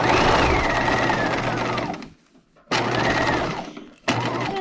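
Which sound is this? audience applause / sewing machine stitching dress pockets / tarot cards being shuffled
sewing machine stitching dress pockets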